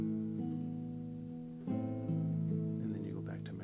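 Classical guitar plays measure 8 of Leo Brouwer's Un Dia de Noviembre, the pickup back into the repeat. Soft sustained notes ring over a low bass, with a new note struck partway through. The playing is quiet and close.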